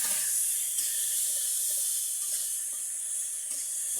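Mashed green banana paste with green chilli sizzles in hot oil, a steady loud hiss and spatter that holds evenly throughout with no pauses.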